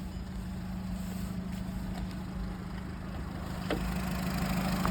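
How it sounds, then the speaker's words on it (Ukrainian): A Volkswagen Golf Plus engine idles with a steady low rumble and even hum, heard close and constant, growing slightly louder toward the end. "Зараз послухайте, як працює двигун."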